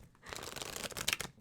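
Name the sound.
shuffling a deck of tarot cards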